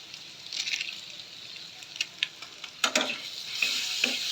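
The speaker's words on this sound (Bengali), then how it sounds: "ভালো করে একটু মিক্স করে নিই আগে" Chowmein noodle spices and chicken balls are stirred in a hot pan: a soft sizzle under repeated scraping strokes of a spatula, a few sharper scrapes standing out near the middle.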